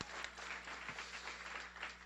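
Graduation ceremony audience for guide dog puppy raisers gives steady, fairly quiet applause from a hall, a dense continuous wash of clapping lasting a couple of seconds.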